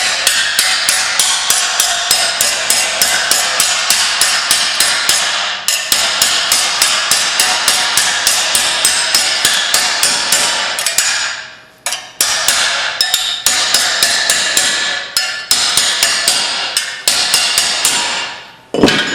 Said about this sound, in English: take your spoon and just tap it down